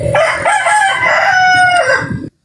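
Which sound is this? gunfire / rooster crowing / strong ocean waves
rooster crowing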